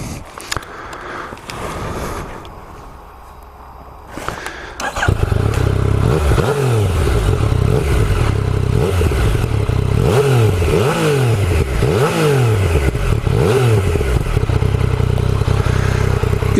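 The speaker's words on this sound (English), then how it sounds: "factory Euro 4 compliant exhaust, it's got a nice bit of a growl to this bike." A Yamaha MT-09 SP motorcycle with its factory Euro 4 compliant exhaust fires up after a few seconds of quiet handling noise, then idles with a close, steady growl and is blipped through several rising and falling revs.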